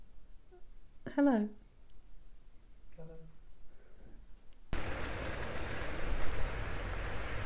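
Rain falls on a rainy June day: after a few seconds of quiet with brief voice-like calls, a loud, steady, close wash of rain hiss suddenly takes over and continues to the end.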